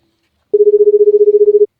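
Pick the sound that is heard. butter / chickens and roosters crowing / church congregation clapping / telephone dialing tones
telephone dialing tones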